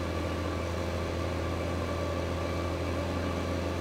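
Steady, continuous drone of a tractor engine in Farming Simulator 15, running constantly at an even pitch with no variation and no talk over it.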